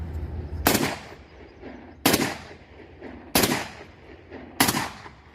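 A .222 bore Saiga rifle fires four loud, sharp single shots at roughly even intervals, each crack trailing into a short echo, with no talk.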